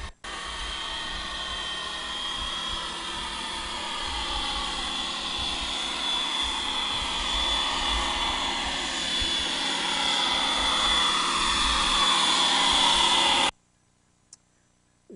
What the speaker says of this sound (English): boats are noisy. So this is just one of our boats